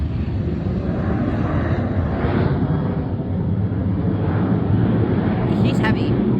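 A heavy airplane passes over Leesburg airport (KQSO), a steady loud broadband engine roar that fills the whole stretch, swelling slightly toward the end.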